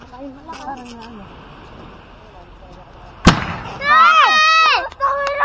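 A single sharp firecracker blast goes off close by, sudden and loud, after some quieter background chatter. Excited voices start shouting right after the bang.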